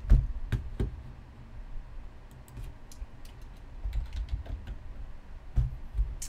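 Soft, sparse typing and clicks on a computer keyboard at a desk, with scattered key taps and a few louder knocks over quiet background.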